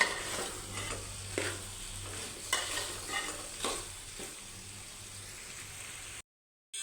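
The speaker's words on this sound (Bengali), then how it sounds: "এখন সুন্দরভাবে এটাকে নাড়াচাড়া করে একটু কষিয়ে নেব।" Boiled taro (kochur mukhi) stirred and fried in a little oil, a low continuous sizzle with repeated scraping strokes of a spatula against the pan, ending in a sudden brief silence.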